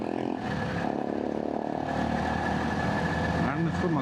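A Royal Enfield Himalayan motorcycle engine, running hot, holds a steady throttled drone close by, with a voice talking over it throughout.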